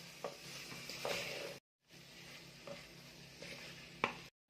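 Garlic and onions frying in a pan for Algerian garlic stew with meat, a quiet sizzle interrupted by a brief silent gap, with occasional spatula taps and a sharper utensil clink near the end.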